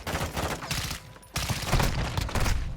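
Rapid gunfire from a World War One gun in a Call of Duty shooter, loud dense bursts of shots filling the scene, a short lull midway, then another sustained volley.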